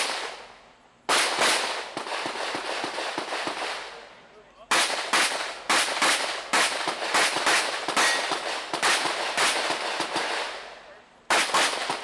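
Rapid bursts of pistol gunfire at a USPSA shooting match at the Pitt County Wildlife Club, sharp cracks fired in quick strings with brief pauses between them, loud and close.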